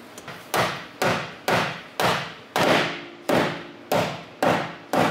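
A ball peen hammer bangs a metal hinge on a K24-swapped Honda EK hatch so the headers can seat; nine sharp, evenly spaced metallic strikes ring out at close range, each decaying quickly, with no talking.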